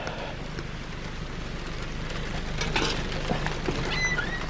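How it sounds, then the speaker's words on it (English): Pouring rain that has just started, heard from inside a car as a steady broadband hiss and patter with a low rumble underneath, fairly even throughout with no talking. "pouring rain that just started."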